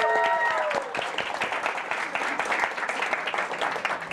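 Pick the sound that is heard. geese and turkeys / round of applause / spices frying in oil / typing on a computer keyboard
round of applause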